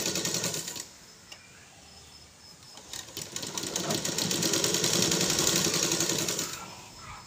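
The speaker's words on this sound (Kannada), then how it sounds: "ಈಗ ನಾವೇನು ಡೆಮೋ ಸ್ಟಿಚ್ ಹಾಕಿದ್ದೀವಿ ಅದ್ರ ಮೇಲೇ ನಾವು ಮತ್ತೊಂದು ಸ್ಟಿಚ್ನ ಹಾಕ್ತಾಯಿದ್ದೀನಿ ನಾನು" A sewing machine runs a tailoring demonstration stitch over an earlier line of stitching, its motor whirring steadily for several seconds with a brief pause near the start and no talk over it.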